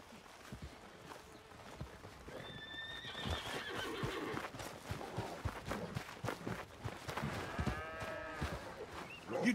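A horse in Red Dead Redemption 2 whinnies twice in bright, wavering calls, with hoof clops and a busy outdoor game soundscape underneath.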